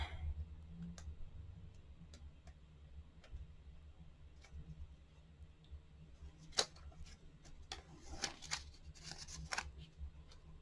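Scissors cutting a sheet of paper in half, a series of quiet close snips and clicks that grow busier toward the end, over a low steady background hum.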